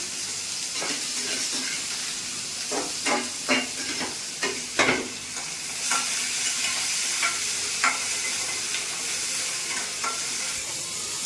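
Crushed garlic sizzling and frying in hot oil in a pan, with a steady hiss and scattered scraping strokes as it is stirred, close and fairly loud, with no talking.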